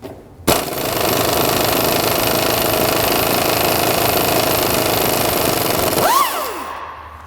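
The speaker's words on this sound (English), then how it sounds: "Let's try pneumatic tools." A pneumatic impact wrench loosens suspension bolts on a 2003 Nissan Sentra in a loud, sustained, rapid hammering burst close up, which ends with the whine of the tool spinning down.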